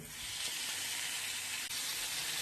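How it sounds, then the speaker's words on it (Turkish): Small pieces of diced red meat sizzle loudly in a hot pan over high heat, a continuous bright hiss with a brief dip partway through. "Burada minik minik doğramış olduğum yarım kase kırmızı eti kızdırmış olduğum tavaya ekliyorum"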